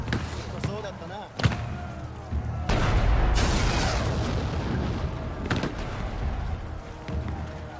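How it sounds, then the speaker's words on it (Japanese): Booming cannon fire in the stealth video game Shadow Tactics: Blades of the Shogun, with heavy blasts and rumbling impacts layered over game noise, alongside voices speaking. "大砲に注意しろ。"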